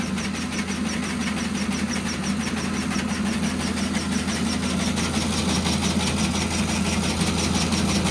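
An MP-100 seed cleaning machine runs continuously, a steady close mechanical hum with rapid rhythmic clatter and a low drone, no talk heard.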